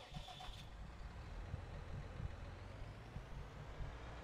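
Tractor engine in Farming Simulator 19 on the La Petite Somme map, a steady low rumbling drone that runs continuously and fairly loud throughout, with a brief higher tone near the start.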